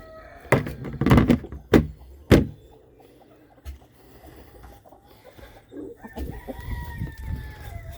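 Chickens and a rooster at morning feeding: several loud sharp bursts of flapping and scuffling early on, followed by quieter scattered clucks and a drawn-out crow.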